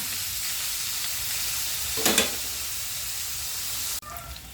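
Pork frying in a pan until brown, a steady soft sizzle with a brief louder burst of crackle near the middle, then a sudden shift in tone at the end, with no voices.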